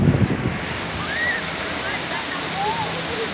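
Sea waves wash steadily onto a beach at Manora, a soft, broad surging rush with wind noise on the microphone and a brief bump of handling at the start.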